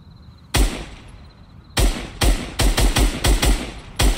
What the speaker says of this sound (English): that must be Christian with the frickin' sniper rifle